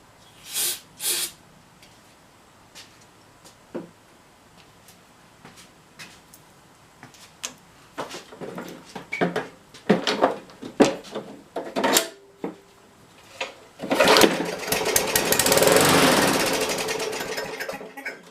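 A Briggs and Stratton small engine with its air filter off, oil-soaked, is pull-started: several sharp rope-pull rattles and clatters come first, then the engine catches and runs with a loud, steady roar at the end.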